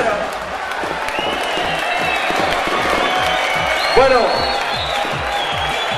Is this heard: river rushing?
no